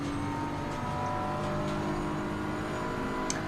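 A Lamborghini race car's engine holds a steady, droning roar in a racing video game, constant and fairly even in level throughout with no voices.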